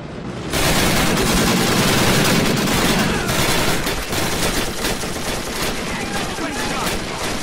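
Dense, continuous battlefield gunfire in Men of War Assault Squad 2, overlapping machine-gun bursts and rifle shots laying down suppressing fire, loud and sustained with booms mixed in and voices under the din.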